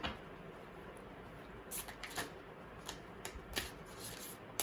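Tarot cards are shuffled by hand in a quiet room, a few soft riffling bursts and light slaps of the deck, close but faint.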